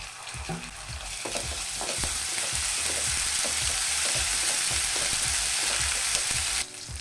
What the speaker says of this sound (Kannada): ಒಂದು ಸಣ್ಣ ಈರುಳ್ಳಿ, ಅಂದರೆ ಕಲರ್ ಚೇಂಜ್ ಆಗೋವರೆಗೂ ಹುರ್ಕೊಳ್ಳೋಣ. ಸ್ವಲ್ಪ ಶುಂಠಿ ಬೆಳ್ಳುಳ್ಳಿ ಪೇಸ್ಟ್ ಹಾಕ್ತೀನಿ ನಾನು